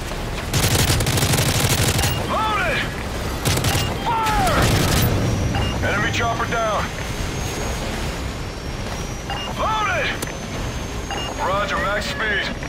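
Turret fire in Call of Duty Modern Warfare 3, Special Ops Iron Clad: heavy booming shots and bursts of gunfire repeat through the scene, mixed with radio-style voices and battle noise.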